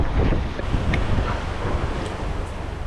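Steady roaring wind from a squall at sea, on a sailing yacht, buffets the microphone, with broadband rushing noise and low rumble throughout, no voices.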